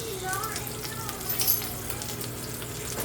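Butter dropped into hot oil in a pan while cooking chuck eye steak, giving a steady close sizzle and crackle with occasional brighter spits, under a voice talking.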